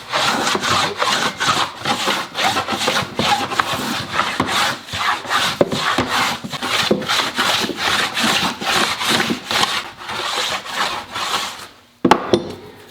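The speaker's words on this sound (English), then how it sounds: "same thing, I'm going to go back and scrape this." A hand scraper works over a wooden Telecaster guitar body blank in a rapid run of rasping strokes, loud and close, stopping abruptly near the end with a single knock.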